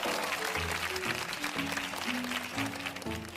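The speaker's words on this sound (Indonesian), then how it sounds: "Berikan tepuk tangan atas penampilan pidato Rara." Classroom applause after a student's speech, many hands clapping steadily while music plays underneath.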